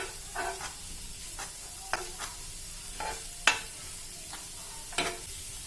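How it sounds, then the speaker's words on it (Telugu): Chopped vegetables for a homemade veg tawa burger fry in a pan under a low, steady sizzle, broken by regular scrapes and taps of a spatula stirring roughly every second. "ఇలా వెజిటేబుల్స్ అన్నీ కొద్దిగా సాఫ్ట్ అయ్యే వరకు ఫ్రై చేసుకోవాలి."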